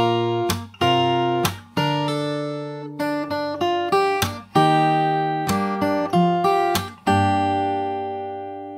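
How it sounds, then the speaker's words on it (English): Fingerstyle acoustic guitar plays the closing chorus and outro of a song: a continuous stream of plucked melody notes over bass, with sharp picked attacks and ringing sustain, heard alone and close. "I'll play from the last part of the chorus into the outro."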